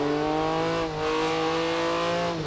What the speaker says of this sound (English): Right, let's just drive the car now.